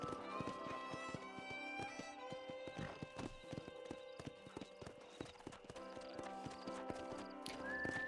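Rhythmic clip-clop of horse hooves trotting steadily in the video game Red Dead Redemption, with a horse whinnying near the end; no talking.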